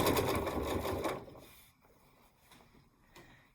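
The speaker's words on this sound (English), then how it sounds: "I like to do it with machine sewing" A sewing machine runs in a quick, loud burst of rapid stitching through barn quilt fabric, then stops, leaving a few faint clicks and handling sounds.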